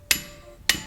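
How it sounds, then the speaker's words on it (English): Hammer tapping the shaft of a weldable ball valve to free the key, two sharp metallic taps about half a second apart, close and clear with no talk. "It's good to have a hammer"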